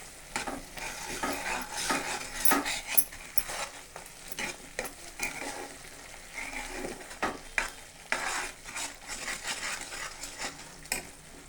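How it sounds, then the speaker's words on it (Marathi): Green peas curry masala roasting in oil in a pan, with a spoon scraping and stirring in steady, irregular strokes over a soft continuous sizzle, close and moderately loud, no talking. "हे छान तेल सुटेपर्यंत छान भाजून घेऊया"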